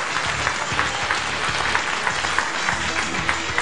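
A studio audience at a Spanish television show applauds loudly and steadily throughout, dense continuous clapping close up with no pauses.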